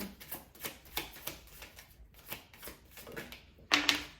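Tarot cards being shuffled by hand, a series of soft riffling bursts in an irregular rhythm, close and fairly quiet, ending with a brighter snap of cards.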